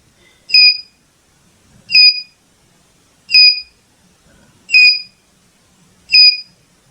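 An IoT project's buzzer sounds five short, shrill beeps, evenly spaced about 1.4 seconds apart, loud and close against near silence.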